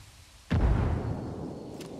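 Frag grenade detonating in the video game Ghost Recon: a single sudden heavy boom with a deep low-end burst that decays into a long rumbling tail, alone without talk.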